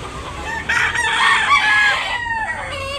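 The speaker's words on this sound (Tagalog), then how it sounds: "Gandang mga manok." A Lemon Sweater rooster crows loudly up close on a farm, a single drawn-out call that fades into soft clucking.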